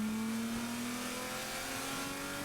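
A JMP Autowerkz race car on track holds a loud, steady engine drone with a slowly rising pitch as it revs, heard close and alone with no talk.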